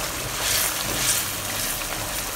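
Sauce for mapo minced meat glass noodles is stirred in a hot pan, giving a steady, close sizzling hiss that swells slightly midway, with no voices.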